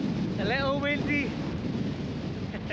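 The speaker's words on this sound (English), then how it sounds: "A little windy." Wind gusts strongly across an open fell top on a cloudy day, a steady roar buffeting the microphone, with a brief voice heard under it near the start.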